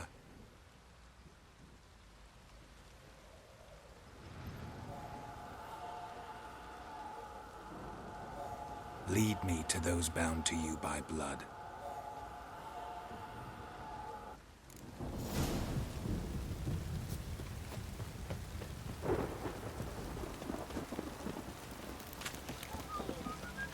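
Steady rain pours throughout in The Witcher 3: The Wild Hunt, with a deep rumble of thunder swelling midway, while a voice speaks over it.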